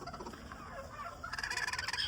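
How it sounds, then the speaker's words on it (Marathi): Hens on a village poultry farm, including a broody hen, give short repeated clucks and calls, with the sound growing busier and louder in the second half. No one speaks. "बघा इथं खुडूक झालेली कोंबड सुद्धा आहे."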